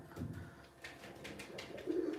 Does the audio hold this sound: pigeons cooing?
yes